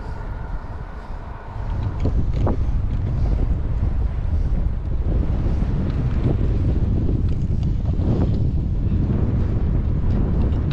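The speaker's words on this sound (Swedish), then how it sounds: "men vinden, den är kvar." Strong wind buffets the microphone on a bikepacking ride across Gotland, a loud continuous roaring rumble with gusty swells throughout and no talking.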